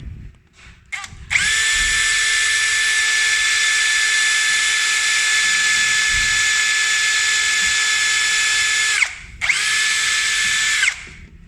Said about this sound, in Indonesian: Jadi saya akan ambil contoh untuk ngebor